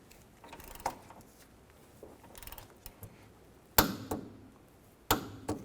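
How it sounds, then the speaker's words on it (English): An 18mm wrench tightens a nut on a rear sway bar link stud of a Chevy Tahoe, giving a few sharp metallic clicks and clanks spaced across a quiet garage, with two louder knocks near the end. "Now I'm going to tighten this bolt to 48 foot-pounds."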